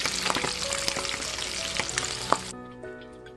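Mackerel fries crisp in hot oil with a loud, crackling sizzle and scattered pops, then cuts off abruptly, leaving only a faint residual hiss.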